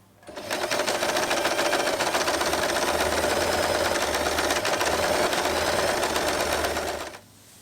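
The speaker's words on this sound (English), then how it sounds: "Sew all around the fabric and leave a gap in the middle." A sewing machine stitches continuously around the edge of fabric pieces for a sailor-style hair bow, a steady, rapid close-up whir running unbroken for about seven seconds with no talking.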